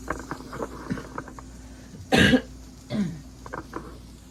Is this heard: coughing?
yes